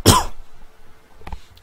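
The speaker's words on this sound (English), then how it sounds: "One second, I need to cough." A single sharp, close cough at the start, followed by quiet with a faint rustle.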